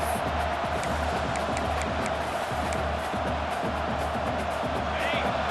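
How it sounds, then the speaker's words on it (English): A stadium crowd roars in EA Sports College Football 26 during a football game, a steady, dense wash of noise lasting the whole time, with voices talking underneath. "The roar of the crowd trying to fuel this defense to keep them pinned in their own end."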